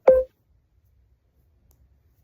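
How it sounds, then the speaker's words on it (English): A phone gives off a single short, odd electronic notification tone with harmonic overtones, loud and close at the start, followed by near silence. "my phone just made a weird noise"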